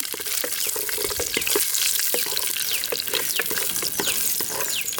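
Garlic and dried red chillies fry in hot oil in a clay pot, giving a loud, dense, continuous crackling sizzle throughout with no voices.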